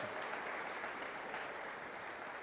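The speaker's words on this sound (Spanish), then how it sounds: "Entonces, démosle un aplauso al Señor." Steady applause from a church congregation fills the space, a dense even wash of clapping that holds at a constant level throughout without letting up.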